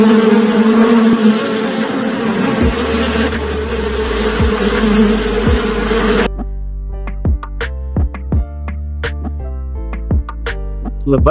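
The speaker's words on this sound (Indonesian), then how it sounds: "Lebah merupakan serangga yang dikenal karena hidupnya berkelompok." A dense, close buzzing of bees fills the first half, then the hum cuts out, leaving scattered short, sharp chirps over quiet.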